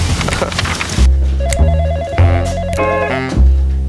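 An electronic telephone ring warbles in repeated bursts, loud and close, following a burst of noisy clatter at the start.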